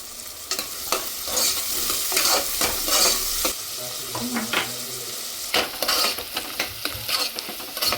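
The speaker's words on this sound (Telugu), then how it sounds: "ఇవి గోల్డెన్ బ్రౌన్ కలర్ వరకు ఫ్రై చేసుకోవాలి." Sliced onions sizzle in hot oil in a pan while a utensil stirs and scrapes them in repeated bursts, the frying hiss continuous underneath the close, clattering strokes.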